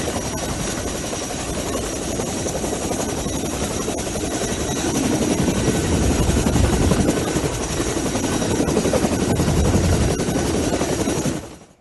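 A rescue helicopter working from Matli helipad during disaster relief in Uttarkashi, its rotor thudding loud and steady for about twelve seconds, swelling slightly midway before cutting off abruptly, with no voices.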